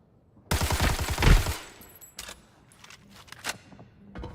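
A burst of rapid automatic gunfire rattles hard up close in the Arena Breakout shooter, then thins into scattered shots and clinks.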